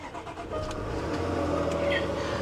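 A Cadillac ATS-V carbon fiber edition fires up, a starter whir giving way to a steady mid-pitched idle that holds close and even, with no talk over it.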